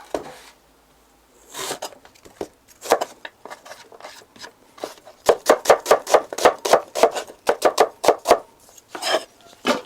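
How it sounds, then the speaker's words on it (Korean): A knife slices onions on a cutting board for kimchi seasoning. A few isolated strokes are followed by a fast, close run of crisp chopping taps, with no talk. "일단 양파를 썰고"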